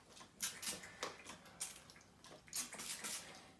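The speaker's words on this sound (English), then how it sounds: "So I need to wet this hair again because it's not, the underneath it is not wet with my awful water spray." A spray bottle spritzes water onto hair during a men's layered haircut, producing several close, hissing bursts in quick succession with short pauses between them and no talking.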